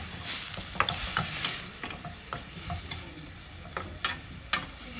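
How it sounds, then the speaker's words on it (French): Food cooking in a pan is stirred with a steady scraping, soft sizzle beneath and a few sharp utensil clicks against the pan, close and fairly quiet, with no voices. "Et je vais mélanger tout ça et laisser cuire."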